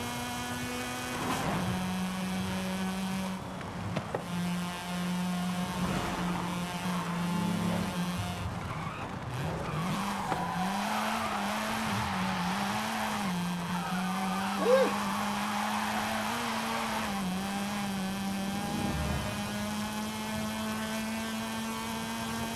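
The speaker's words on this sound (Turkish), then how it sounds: "Arabanın 9000 devirlik sesi inanılmaz iyi." A Mazda RX-7 drifts in Forza Horizon 5, its engine droning and revving high toward 9000 rpm as tires squeal and skid through long slides, loud and close throughout.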